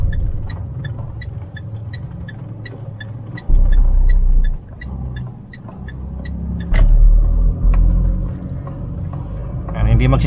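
Car engine rumbling low as the driver pulls away and changes up through the gears with paddle shifters, the engine note surging and dropping with each shift, while someone talks over it.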